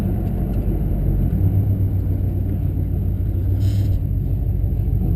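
A 1956 Packard's 374 cubic inch, 310 horsepower engine with two four-barrel carburetors rumbles low and steady from inside the moving car, a constant near drone without talk.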